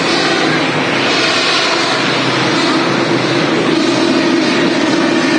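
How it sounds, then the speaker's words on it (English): A TUI Boeing 787 Dreamliner taxiing at Manchester Airport gives a loud, steady broadband engine roar that holds level and close throughout with no breaks. "Is that TUI Dreamliner just taxiing past now?"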